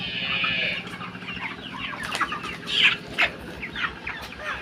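Chickens on a Bangladeshi poultry farm cluck steadily, with busy overlapping calls and a few louder squawks rising over a constant low farm hum, no talk.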